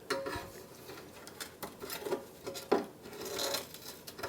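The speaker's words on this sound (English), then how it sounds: "I need to pull these cleats out" Scraping, creaking and clattering as cleats are pried out of a wooden mirror frame during restoration, with scattered knocks and rubbing strokes close by and one sharper crack near the middle.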